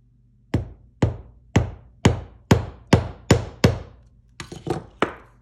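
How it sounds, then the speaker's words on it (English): A hammer strikes wire laid over a faux leather and recycled book page craft project to dent it, giving about ten sharp, close knocks at a steady beat of roughly two per second, with a quick cluster near the end. "hit it with my hammer"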